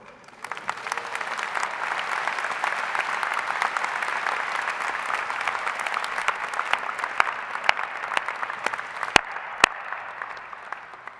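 A large audience at a University of Michigan graduate commencement ceremony gives dense, sustained applause for over ten seconds. A few sharper individual claps stand out near the end, and no one speaks.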